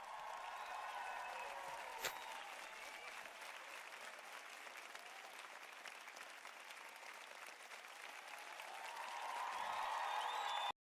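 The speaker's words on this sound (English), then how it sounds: "Let's give Dale a round of applause." Steady applause from a crowd, sustained throughout, swelling louder near the end before cutting off abruptly.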